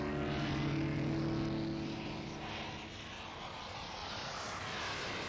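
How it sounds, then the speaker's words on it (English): A vertical take-off aircraft in flight, its engine giving a continuous droning roar with a strong low hum that eases slightly midway and then holds steady. "What a weird aircraft. It has the ability to take off vertically"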